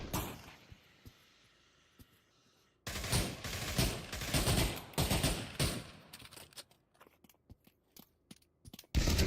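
Gunfire and grenade blasts in Pavlov VR competitive play, quiet tapping giving way to a loud burst of rapid automatic fire, then scattered sharp shots and a final loud bang.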